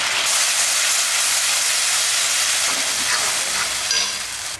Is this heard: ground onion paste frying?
yes